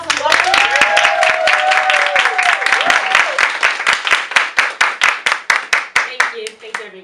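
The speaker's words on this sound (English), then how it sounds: "Let's give her a round of applause and welcome her." An audience applauds to welcome a speaker onto a stage, with a dense burst of clapping that thins into separate, spaced claps toward the end, with no talking over it.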